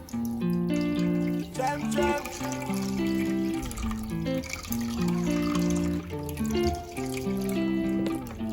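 Water is poured and splashes while making Caribbean ginger beer, a steady liquid trickle with drips, mixed with tonal background music.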